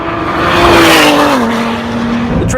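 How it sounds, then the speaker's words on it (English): A loud 2017 Ford GT V6 engine revving close by, its pitch rising then settling into a steady drone, with a brief tire chirp at the end. "It may not be a V8, but it sounds a lot better than a V6"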